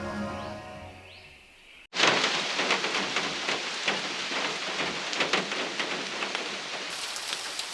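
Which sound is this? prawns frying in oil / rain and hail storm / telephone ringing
rain and hail storm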